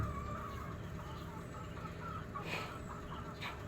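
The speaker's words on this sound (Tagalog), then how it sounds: "Langas kay manok anak, nagsigig kakak anak." A chicken clucks repeatedly in short bursts, faint and somewhat distant against a quiet background.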